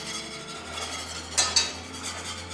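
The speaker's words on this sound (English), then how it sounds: "Make sure you whisk really, really fast to get it in there." Quick whisking of a thickening mixture in a pan over low heat while making a keto pear tart; a rapid, soft scraping swirl runs continuously, broken by two brief metallic clinks near the middle.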